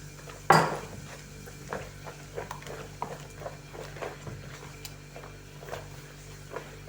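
A spoon clinks and scrapes against a bowl of batter made with sparkling mineral water in a steady stirring rhythm, close by, with a sharper knock near the start and no talking.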